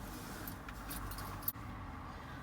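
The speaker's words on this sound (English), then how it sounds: "That's the house keys, that's the van key." House keys and a van key jangle quietly on a ring, a soft continuous clinking with one sharp knock midway, set against low background hum.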